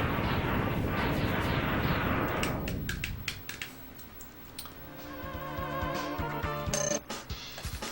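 A boss explodes in Mega Man X during the Sigma stage, a loud, dense roar of rapid blast bursts that fades after about three seconds into lighter game sound effects and chiming electronic tones.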